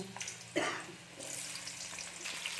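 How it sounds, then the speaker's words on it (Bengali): Potatoes dropped into hot oil for frying: a soft splashing burst, then a steady, faint sizzle that carries on alone. "এবার আমরা এর মধ্যে আলুটা দিয়ে দেবো আলুটাকে একটু ভালো করে ভেজে নেব"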